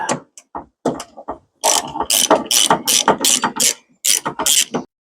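A ratchet wrench turns the 10 mm bolts on the top battery hold-down bar of a 2019 Chevy Traverse, clicking in quick close bursts with short pauses between strokes.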